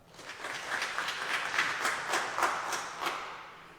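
Scattered clapping from a church congregation during a sermon, a loose, uneven patter of hands at moderate distance lasting several seconds with no talk over it.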